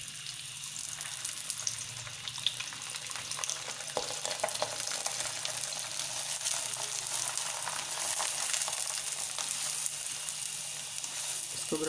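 A shaljam (turnip) paratha fries in ghee in a pan, giving a steady, close sizzle with crackling pops throughout and occasional stirring or scraping touches.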